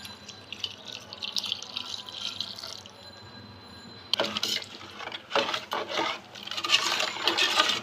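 Rice is poured onto boiled rice in a pot while making kheer. Faint drips and small wet sounds come first, then louder wet pouring and splashing in irregular bursts nearby. No one speaks.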